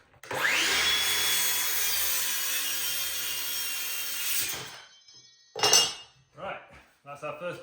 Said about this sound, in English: Then we just make the cut with our circular saw.